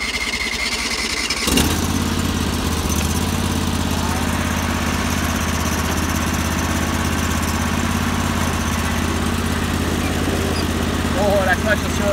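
A Sears Suburban loader tractor's 20HP Briggs V-twin engine cold-starts after six months of sitting, cranking briefly then catching and settling into a steady, loud, close-up idle that runs without pause.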